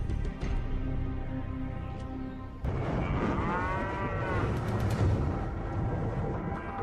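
Cattle moo in a remote cow pasture north of Phoenix, with several drawn-out calls layered over steady outdoor background noise and no talking.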